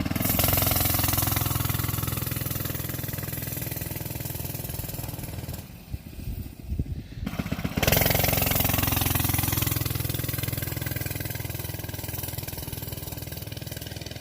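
Coleman CT100U minibike engine runs loud and steady, drops to a brief rough lull as the clutch slips without fully engaging, then comes back to a strong even drone.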